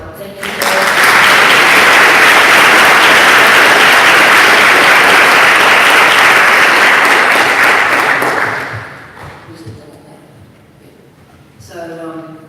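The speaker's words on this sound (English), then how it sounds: "I'm just going to let everyone say a big clap" An audience at a tribunal gathering gives loud, sustained applause for about eight seconds that then tapers off, followed by a quieter stretch and a voice at the end.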